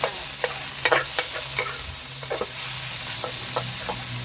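Garlic sizzles in a hot pan for stir-fried glass noodles with chicken and cabbage, a steady close frying hiss broken by frequent scraping and clacking stirring strokes.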